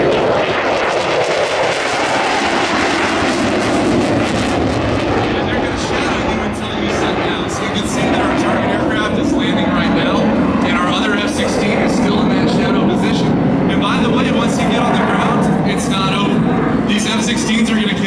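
A civilian general aviation plane circles back toward a nearby runway at the New York Airshow, its engine drone sustained and loud throughout, mixed with crowd noise and an announcer's voice talking over it.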